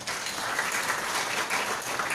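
Audience applause during a health detox training talk, a steady dense wash of clapping filling the whole stretch at moderate level with no voices over it.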